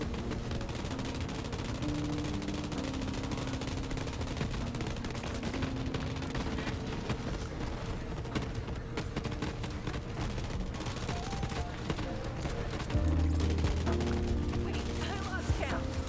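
Rapid gunfire from the EM-P5 gun in Borderlands streams on continuously under a steady bed of game music and effects, with no clear pauses.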